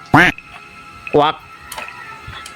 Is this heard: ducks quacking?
yes